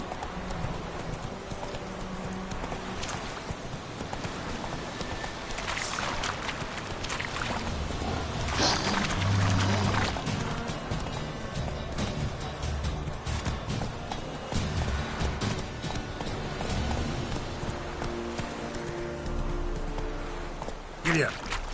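Steady clip-clop of horse hooves at a riding pace in The Witcher 3, a continuous rhythmic trot close by under game ambience, with a voice speaking to the horse now and then.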